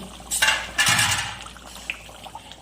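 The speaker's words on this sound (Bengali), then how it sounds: "মিনিট পরে ঢাকনাটাকে খুলে নিচ্ছি" A metal lid clatters as it is lifted off a pan of simmering bhetki fish curry with potatoes: two quick clinking scrapes close up, followed by faint bubbling and light kitchen clicks.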